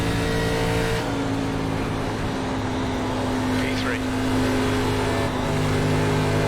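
ARCA race car engine on the Kansas Speedway oval in iRacing, a loud steady high-pitched drone with slight pitch shifts as throttle changes, running continuously with speech present.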